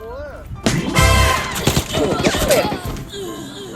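Gunfire in the tactical shooter Arena Breakout: sharp, loud shots ring out in quick bursts while someone talks over them throughout.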